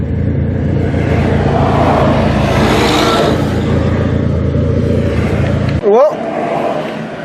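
Damaged race car engine knocking while driving on a highway, a loud, steady low rumble with road noise throughout, a brief voice near the end.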